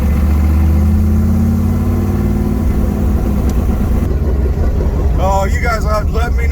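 A 640 horsepower four-speed Dodge Charger engine rumbles loud and close as the clutch is released, its deep steady drone shifting in pitch toward the end, with voices talking over it.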